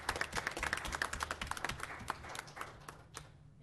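A small audience at a school board meeting claps for honored staff. The applause is fairly quiet and uneven, made of distinct individual claps, and thins out within about three seconds.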